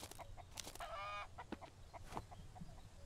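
A chicken in the survival video game MIST Survival clucks in short repeated calls, one drawn-out squawk near the start, fairly faint over a steady background hum.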